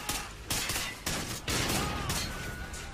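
Rapid gunfire in the Call of Duty Ghosts video game comes in loud bursts separated by short gaps, close and dense, with no voices over it.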